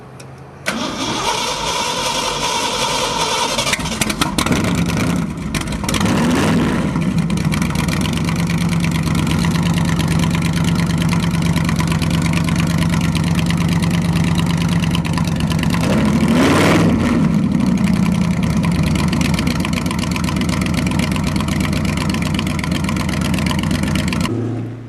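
An old rat rod engine is fired up from cold, cranking and catching before settling into a loud, steady rumbling idle, with sharp revs partway through and again near the end.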